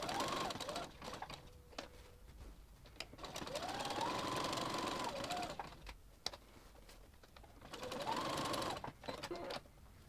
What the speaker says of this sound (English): start following the lines around, lining them with a zigzag stitch